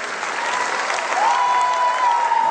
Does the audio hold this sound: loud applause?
yes